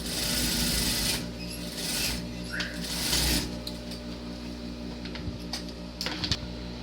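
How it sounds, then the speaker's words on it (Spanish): An overlock serger sewing machine finishes a pocket seam on women's shorts, running with a close mechanical whir and rattle in uneven bursts, broken by sharper clicks toward the end. "cosemos a 1 centímetro para luego darle acabado en la over o fileteadora"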